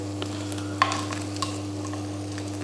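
Roast potatoes turned over in hot oil on an oven tray: quiet crackling sizzle with a few sharp metallic clicks and scrapes over a steady low electrical hum.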